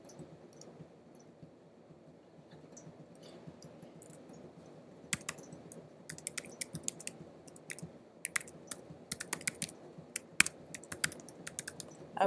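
Keys clatter on a computer keyboard as someone types an email address into a WordPress form, starting faint and sparse and then quickening into close, irregular bursts of sharp clicks.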